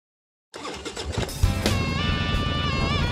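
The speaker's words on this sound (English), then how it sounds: "Kickstart that engine and roll thunder with the pack." A motorcycle engine revs up loud and close as an intro sound effect, a rough roaring burst that swells and then holds a steady throaty drone for several seconds after a silent start.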